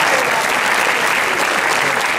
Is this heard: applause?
yes